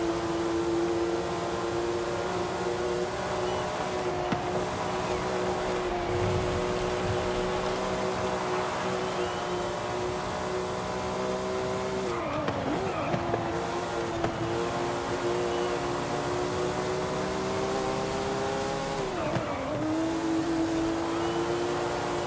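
An old Lamborghini Countach in Forza Horizon 5 drives with a steady, loud engine drone throughout. Its pitch climbs and falls with several throttle changes and shifts, and brief dips come near the middle and end.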